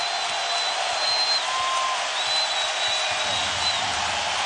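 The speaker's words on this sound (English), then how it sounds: "And this crowd on its feet." A basketball arena crowd in Game 1 of the 2007 NBA Finals, Spurs against Cavaliers, rises to its feet with a steady, loud wash of cheering that holds evenly throughout, with no break.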